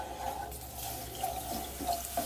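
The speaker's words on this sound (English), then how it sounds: "Now what we're going to do is pour in our milk." Milk pours into a pot with a soft, continuous trickling splash, quiet and close, with no talk.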